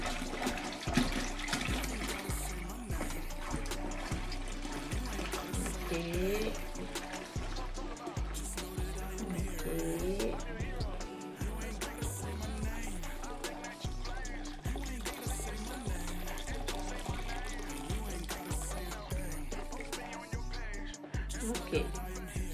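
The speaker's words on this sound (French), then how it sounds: "J'avais déjà commencé à ajouter de l'eau" Water pours steadily and loudly into a 5-gallon bottle while home brewing a golden ale, a continuous rushing, gurgling fill with no break from start to finish.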